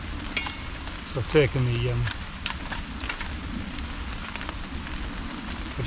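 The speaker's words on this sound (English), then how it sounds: "It's raining quite heavily now." Heavy rain falls steadily through a forest as a continuous hiss and patter across the whole clip, while someone talks briefly over it in the middle.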